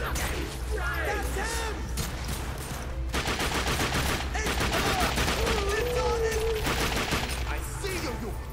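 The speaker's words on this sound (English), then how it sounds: "Headshot with a shotgun." Shotgun fire in the video game The Darkness 2, a dense run of blasts and rapid gunfire over continuous game noise and music, with a voice talking over the action.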